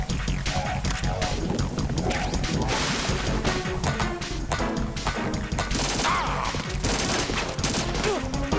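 Dense barrage of explosive blasts and crashing impacts from a grenade launcher in Metal Gear Solid 2, loud and continuous over layered game noise and music, with no talking.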